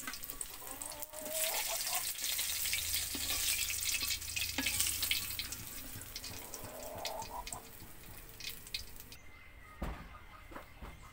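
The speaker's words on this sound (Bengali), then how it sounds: "একইভাবে সবগুলো মাছ আমি ভেজে নেব।" Fish fries in a pan with a soft, continuous sizzle and occasional stirring clinks, quiet and close, then thins out toward the end.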